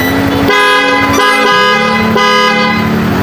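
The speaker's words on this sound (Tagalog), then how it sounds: "malakas na busina mga paps" A loud aftermarket horn fitted to a Honda Click scooter blares in three close, harsh honks, each a bright, buzzy tone with strong harmonics, the middle one short and the last held longer.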